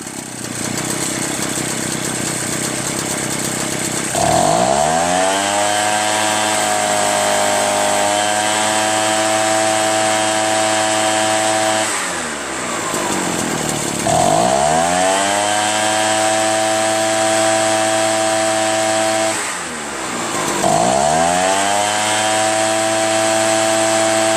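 A used Echo PB-403T backpack leaf blower with freshly adjusted high and low fuel mixture screws runs loud and close, its two-stroke engine dropping and climbing back three times between steady stretches of high revving.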